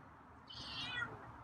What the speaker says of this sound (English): Yeah, that's a solid meow.